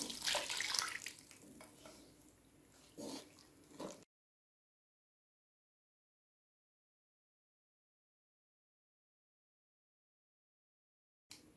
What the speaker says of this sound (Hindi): अब इसके अंदर मैं दूध ऐड करती हूँ।